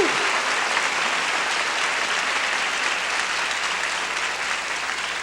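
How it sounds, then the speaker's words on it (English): Worshippers in a large church congregation clap their hands together, producing a loud, unbroken roar of applause that stays even and full for the whole stretch. "Clap your hands."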